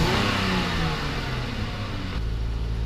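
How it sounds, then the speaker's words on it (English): A Dodge Challenger engine revs up loud and close, a dense roaring rise that eases back toward a steadier rumble near the end, with no talking. "it's fairly quiet until you start revving it."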